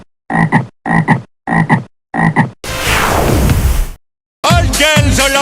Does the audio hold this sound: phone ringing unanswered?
no